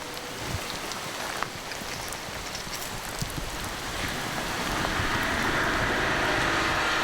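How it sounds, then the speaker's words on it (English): Heavy rain pouring during a storm at sea on Port-Cros island, a dense continuous hiss with occasional splashes, growing steadily louder toward the end, no voices. "A few minutes later, it's raining cats and dogs."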